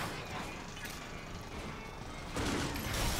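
Dense, noisy rumble of rapid explosive blasts and gunfire in the video game Hard Reset Redux, loud and continuous, swelling louder near the end.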